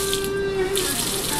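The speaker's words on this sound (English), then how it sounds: "cast iron griddle to see if it's hot by splashing water on it" Water splashed onto a hot cast iron griddle, a steady sizzling hiss that carries evenly through the short moment, close and fairly loud with no talking.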